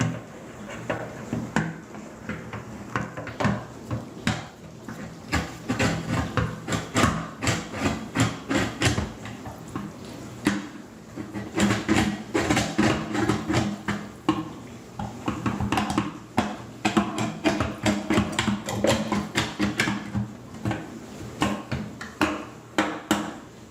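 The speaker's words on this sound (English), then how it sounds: "get the old disposal wrench out here and unjam it" A disposal wrench works at a jammed, humming kitchen garbage disposal, making a long run of close metallic clanks, scrapes and ratcheting knocks in uneven bursts with short pauses.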